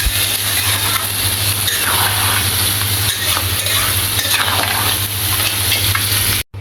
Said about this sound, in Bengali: কাঁকড়া ভুনা করা হচ্ছে